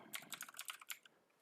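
Fast typing on a computer keyboard, a close, quiet burst of rapid keystrokes that trails off into silence after about a second.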